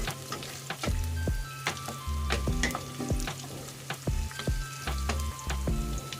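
Ginger sautés in hot oil in a pan while squid adobo is being cooked, a steady close sizzle broken by repeated scraping stirs of a utensil against the pan, with no talk.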